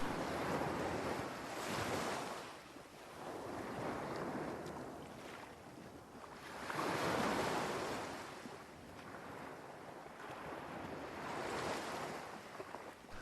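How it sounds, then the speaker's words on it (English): Ocean waves on a tropical island roll in and wash back in slow rhythmic surges, several swells rising and fading, with wind buffeting the microphone and no voices. "Just listen to the sound of the ocean."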